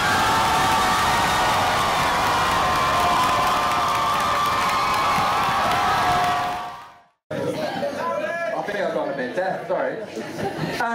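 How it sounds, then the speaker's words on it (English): A live audience at a contest cheers loudly to choose a winner, a dense roar of shouts and whoops that cuts off abruptly, then returns as excited crowd chatter and cheering. "Basically, cheer for the person you want to win."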